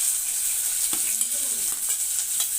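Onions and green chillies frying in a pan for a breakfast dish, giving a steady close sizzle with a few light stirring scrapes partway through, and no voices.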